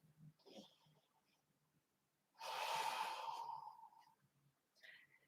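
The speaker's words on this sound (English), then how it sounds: "One more full breath." A single full, deep breath taken during a yoga stretch, a soft rushing exhale lasting about two seconds, close and quiet, between faint softer breaths.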